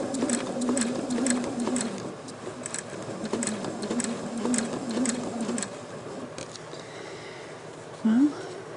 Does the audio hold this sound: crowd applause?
no